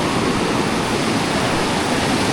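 Steady rushing water of a low, fast-flowing river current near a bamboo footbridge, a dense continuous roar with no breaks, close and loud, and no voices.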